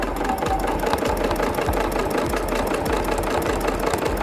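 A sewing machine stitches a vine-and-leaf design along a traced centre line, producing a fast, steady mechanical chatter of evenly spaced needle strokes, close and fairly loud, with no talking.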